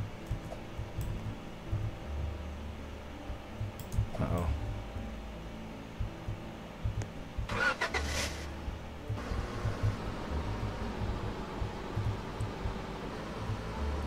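A truck engine in the Roblox game Lumber Tycoon 2 hums as a low, steady rumble at modest volume, broken by a couple of brief louder knocks and clatters.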